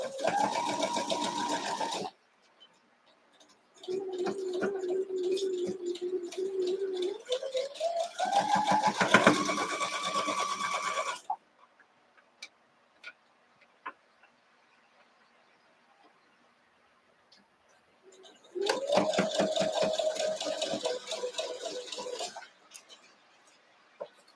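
A sewing machine stitches a quilt block in close, clear bursts: a short run, then a long run whose motor whine climbs in speed, a pause, and another steady run near the end.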